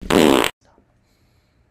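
A loud, wet fart sound effect from an Alexa smart speaker, one sustained burst of about half a second, followed by silence and then a brief faint noise at the very end.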